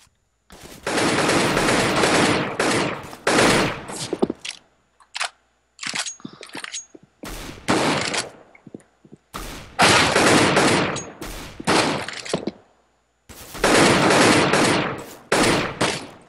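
Video game gunfire rings out in dense automatic bursts and scattered single shots, loud and close, with short gaps between volleys.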